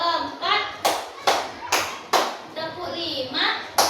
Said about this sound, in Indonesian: Ya, tepuk 1, tepuk 2, tepuk 3, tepuk 4,